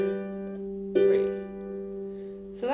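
Harp playing sustained chords over a single low G bass note, with a few plucked attacks ringing out and long steady tones between them, soft and close.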